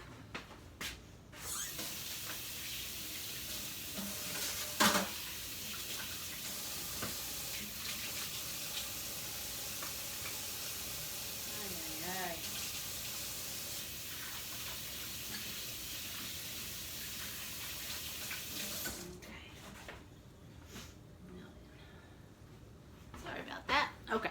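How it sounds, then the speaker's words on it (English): A sink tap runs steadily as hands are washed, a loud continuous rush of water close by with small splashes and a brief voice over it, then the tap shuts off and handling noises follow. "Let me wash my hands real quick."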